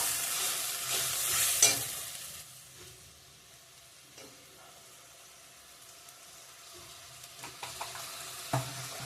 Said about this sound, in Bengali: একটু আদা দিয়ে দেবো এখন টমেটো পেস্টটা দিয়ে দেবো মশলার সঙ্গে মশলাগুলো অ্যাড করে দিয়ে দেবো